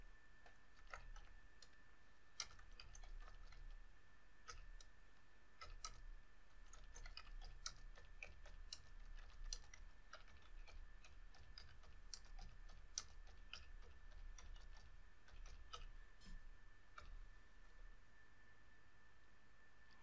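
Quiet, steady clicking of keys as a message is typed on a computer keyboard, irregular taps continuing without pause over a faint background hum.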